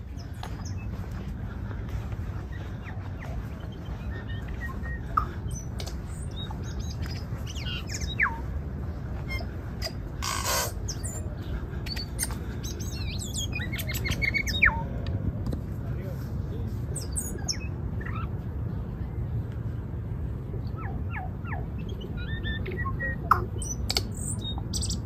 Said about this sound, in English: Ooh, lots of birds up here. Lots of chirping going on.